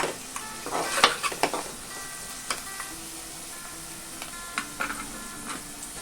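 Onion sautéing with a pinch of salt in a pan, a soft continuous sizzle broken by repeated spatula scrapes and taps against the pan, close and fairly quiet with no speech.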